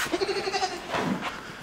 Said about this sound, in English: This goat got a lot stronger overnight.